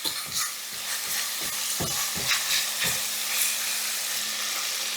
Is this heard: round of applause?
no